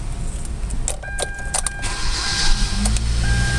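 A 2012 Kia Rio engine idling steadily with a low rumble, accompanied by a few clicks and a jingle of keys, with no talking.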